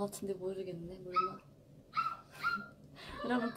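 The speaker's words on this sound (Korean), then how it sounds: "저 강아지 짖는 소리?" A small dog barks and whimpers faintly in the background, a few short yips scattered under close, chatty talk.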